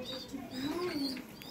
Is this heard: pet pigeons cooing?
yes